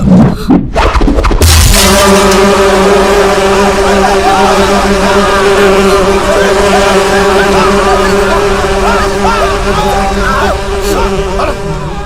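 Insects buzzing in a Telugu comedy film scene: after a brief clatter at the start, a loud, steady, droning buzz with layered tones fills the rest of the clip.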